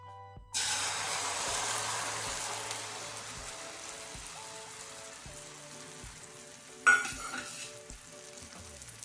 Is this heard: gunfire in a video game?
no